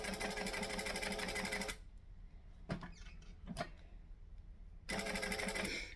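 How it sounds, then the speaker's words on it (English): A sewing machine stitching a vinyl bag strap runs in two steady, close whirring bursts separated by a quiet pause with a couple of clicks. "So line it up at the edge, stitch and back stitch."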